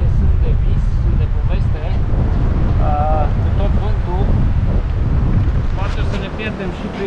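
Strong wind buffets the microphone on the Nice seafront, a constant heavy roar and rumble that runs through the whole stretch, with people talking underneath it.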